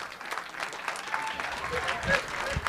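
Audience at a Wall Township board meeting applauding, a steady smattering of claps under murmuring voices, moderately close and continuous throughout.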